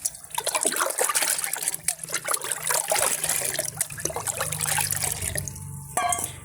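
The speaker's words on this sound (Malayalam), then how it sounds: "നമുക്കൊരു ബക്കറ്റിൽ കുറേ വെള്ളമാക്കി എടുക്കാം" Fenugreek water is poured and mixed into a bucket of water to make plant fertilizer, with close, continuous splashing and trickling, then a few drips at the end.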